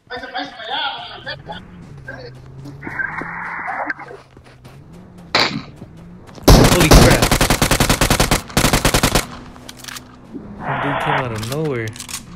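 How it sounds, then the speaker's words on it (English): Gunfire in an online squad shooter video game: rapid bursts of automatic fire crackle loudly in the middle, while players talk over the game sounds before and after. "Manny, did you get that guy who's shooting behind you?"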